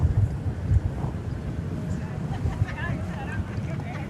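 Gusty late-afternoon wind buffets the microphone outdoors at DFW airport, a steady low rumble with irregular louder gusts and faint distant tones over it.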